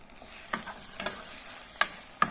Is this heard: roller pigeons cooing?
no